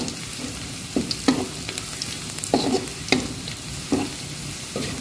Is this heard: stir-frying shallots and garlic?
yes